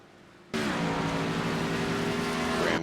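Race cars roar around the Iowa oval during a Friday night SCRL stock car race, a sudden loud sustained engine drone with steady harmonic whine that starts after a brief quiet moment and holds to the end.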